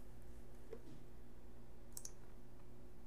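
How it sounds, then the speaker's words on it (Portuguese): A computer mouse clicking on a file in Windows: faint, brief clicks, including a quick pair, against a quiet steady background hiss. "quando eu dou um duplo clique nesse arquivo, ele vai abrir o bloco de notas"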